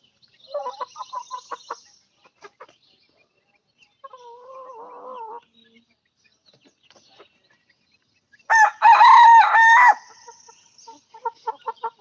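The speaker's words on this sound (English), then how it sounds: "My rooster has no idea what time of day it is. He crows all the time." A rooster on a chicken farm in the afternoon gives one loud, strident crow, mixed with softer clucking and brief calls before and after, fairly close with quiet gaps between.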